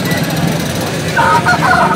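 Hens cluck in a busy, noisy poultry market, with a few sharper calls rising near the end over a steady background rumble.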